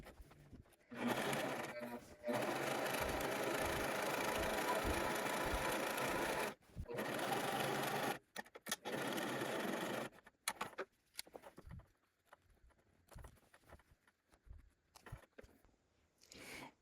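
Sewing machine running in steady bursts while stitching a 1/4 inch seam allowance along the bottom hem of a cheap fabric dress, loud whirring runs with brief pauses, then quieter handling afterward.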